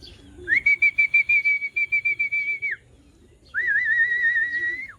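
A racing pigeon arrives at a loft in Muntinlupa, Manila while two long, loud warbling whistles sound close by, the first broken into a quick pulsing rhythm.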